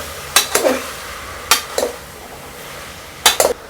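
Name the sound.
mixing cut brinjal into sambar in a pot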